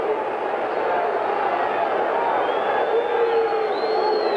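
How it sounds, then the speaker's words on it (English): A large soccer crowd at a New York Cosmos versus Dallas Tornado match sends up a sustained, dense roar of disapproving boos, loud and steady throughout with no break. "we have a lot of boos from the crowd"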